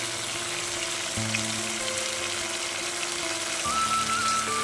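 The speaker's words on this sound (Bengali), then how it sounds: "পেঁয়াজ, আদা, রসুনের পেস্টটা আমি কষাতে কষাতে" Onion, ginger and garlic paste sizzles and fries in a pan, a steady close hiss that carries on without a break and without voices.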